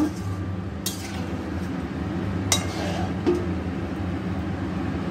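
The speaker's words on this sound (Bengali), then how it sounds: "গ্যাসটা একদম কমিয়ে রেখেছি, এখন 10 মিনিট ঢাকা দিয়ে রাখবো।" A metal lid is set on a cooking pot over a low gas flame, giving two sharp clinks and a softer knock against a steady low hum of background noise, with no one speaking.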